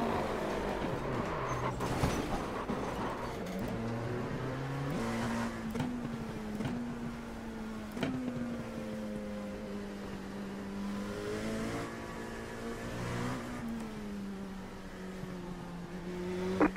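A car circuits the Nordschleife track, its engine revving up and down through gear changes, close and sustained with whining tones and occasional bumps, no talking.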